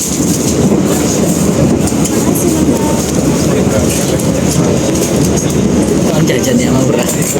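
An economy carriage on the Majapahit train rolls along the rails with a constant loud rumble and faint clickety-clack, steady throughout and heard from inside the car.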